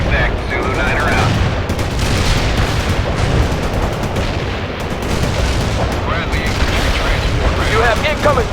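Mortar fire in the real-time strategy game World in Conflict, dense rolling booms and crackling gunfire throughout, loud and continuous, with radio voices talking over the barrage.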